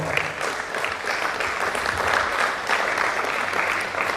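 Sustained audience clapping in a medical college conference plenary hall, a dense, even roar of many hands at close, loud level running throughout without a break.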